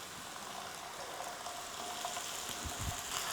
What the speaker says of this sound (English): Nicely stir fry this.